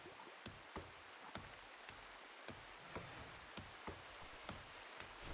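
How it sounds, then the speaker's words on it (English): Steady rain from the game RimWorld, a soft continuous patter with scattered sharper drops landing throughout, fairly quiet and alone without speech. "The soothing sounds of the rain just really got to him"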